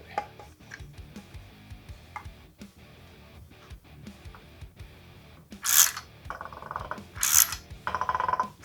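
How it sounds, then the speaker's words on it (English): A Yamaha YZ125 crankshaft is drawn into its bearing with a puller tool, giving quiet metallic clicks and ratcheting taps. These build into louder bursts of harsh, grinding mechanical noise near the end. "I tried to get you guys in a position where you can actually see the crank being pulled in"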